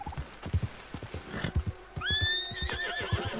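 A horse in Red Dead Redemption 2 gives a loud, rising whinny partway through, after a run of close clip-clopping hoofbeats that continues beneath and after the call.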